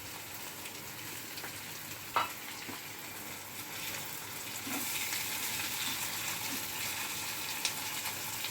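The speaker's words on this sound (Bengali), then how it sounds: "এতে আমি দিয়ে দেবো সেই চিংড়ি মাছগুলো, এগুলোকে ছোটো ছোটো করে কেটে নিয়েছি।" Chopped prawns sizzle and fry in a pan alongside pointed gourd, a steady crackling hiss with a few faint scrapes and taps, close and continuous, no voices.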